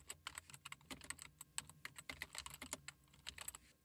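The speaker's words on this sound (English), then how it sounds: "In this box, type in the URL to your website." Quick, uneven clicks of computer keyboard keys sound as someone types out a web address, close and quiet, with short bursts and brief pauses between keystrokes.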